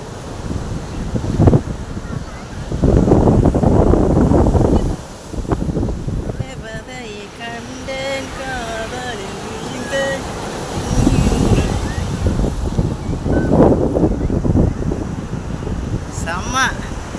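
Ocean waves break on a beach in strong wind, with surges of wash rolling in at intervals under steady wind noise, while people and children talk nearby.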